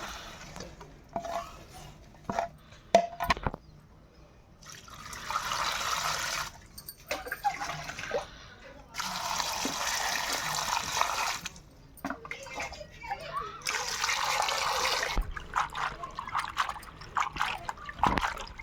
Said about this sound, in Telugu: గోంగూరని శుభ్రంగా కడుక్కోవాలి